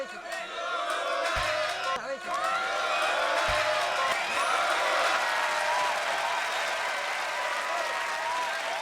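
A concert audience claps and cheers in a sustained, dense wave of applause with scattered whoops, while a voice talks over it near the microphone.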